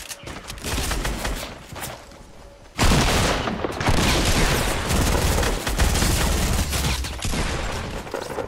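Rapid video game gunfire, loud bursts of automatic shots that start sparse and then swell into sustained heavy volleys with booming impacts, close and dominant.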